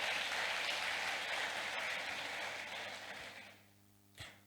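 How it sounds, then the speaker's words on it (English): Audience applause for President Nana Addo Dankwa at a youth event, a dense sustained ovation that holds steady for several seconds, then fades, ending with one sharp knock. "Clap for President Nana Addo Dankwa."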